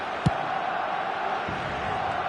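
Stadium crowd on match day in a football video game roars in a steady, fervent wash of massed voices, with a dull thump early on and continuous background noise.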